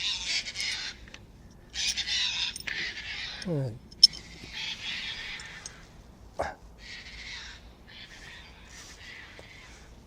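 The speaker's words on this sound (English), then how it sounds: "Seagulls are noisy." Seagulls let out intermittent high, squealing calls, with one sharp descending cry partway through, amid a quiet outdoor background while a person briefly speaks.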